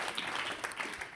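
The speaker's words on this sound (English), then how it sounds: "applause." An audience at a community event breaks into applause, a dense steady patter of many hands clapping for about a second.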